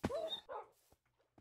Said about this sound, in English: Dumb dogs.